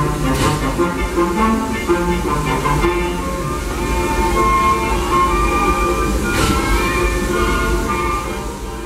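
The Disneyland Railroad train rolls along with a continuous rumbling clatter of wheels and cars, loud and close, with faint squeals riding on top.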